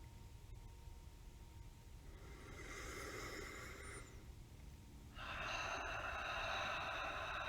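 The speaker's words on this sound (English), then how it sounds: "you can hear the sound of your own breath" Slow, deliberate breathing close to the ear, a long airy inhale followed by a steady exhale, soft and hissy with no talking.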